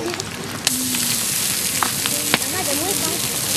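Strips of bear meat sizzling on a hot stone used as a cooking plate outdoors, a steady close frying hiss with occasional pops and faint bird calls in the background.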